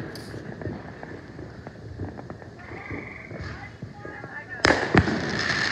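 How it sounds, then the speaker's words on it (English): Independence Day fireworks burst at a distance, with a sharp loud bang near the end over steady crackling and rumbling, while excited voices talk throughout. "The fireworks."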